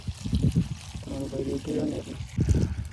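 Water poured into a pesticide sprayer pump tank in a groundnut field, a steady splashing pour lasting a couple of seconds with voices talking over it at the start and end.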